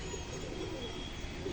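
A female pigeon of fancy flying stock coos softly amid steady background hiss and ambient noise, a low continuous murmur with no clear breaks.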